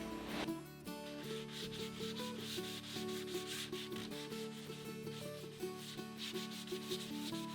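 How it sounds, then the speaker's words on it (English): Sandpaper of 220 grit rubs steadily over a wooden furniture top and edges, a continuous scratchy sanding with rhythmic strokes, close and fairly loud, backed by sustained tonal sounds. "I'm using 220 sandpaper."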